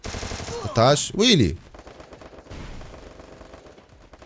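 A Thompson submachine gun fires in Free Fire in a rapid, dense burst of shots under a brief raised voice, then tails off into quieter scattered game sounds.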